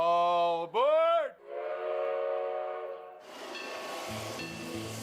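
The narrow gauge railway train to Silverton in southwestern Colorado: a steam whistle blows two loud, bending blasts, then a long hiss of steam follows, before rumbling train noise with a softer tooting, heard alone.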